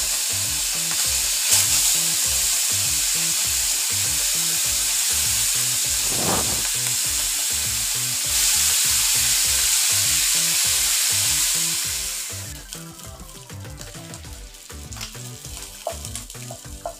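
Small fish fry in mustard oil in a frying pan, giving a loud, steady, close sizzle with repeated rhythmic scraping or stirring strokes underneath. The hiss eases down near the end, and nobody speaks.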